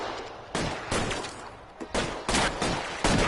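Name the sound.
gunfire in a video game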